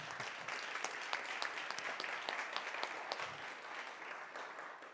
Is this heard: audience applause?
yes